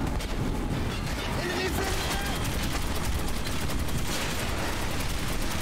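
Gunfire in Metro 2033, a dense and constant roar of shots and blasts that fills the whole clip at steady high loudness with no pauses.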